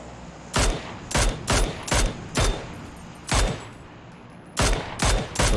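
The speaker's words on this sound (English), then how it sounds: "Just standing there and firing away at this." Gunfire in PUBG, a video game, heard as several short bursts of rapid shots separated by brief pauses, loud and close with no talking.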